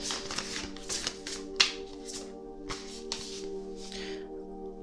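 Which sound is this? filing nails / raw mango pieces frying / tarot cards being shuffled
tarot cards being shuffled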